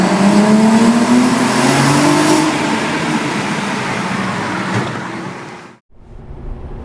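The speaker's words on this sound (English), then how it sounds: "I can insert a clip of my old car going through there." An old car drives through, its engine loud and close with a rising rev tone early on, then a broad rushing roar that fades before cutting off abruptly and a quieter ambience returns.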